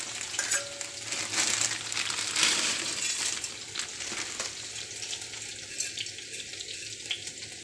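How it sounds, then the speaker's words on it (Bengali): Chowmein noodles go into a pot of vigorously boiling salted water over a high flame, a close, bubbling, splashing watery rush with some clatter that settles into a steady simmering churn. "এবার দিয়ে দেব চাউমিনগুলো।"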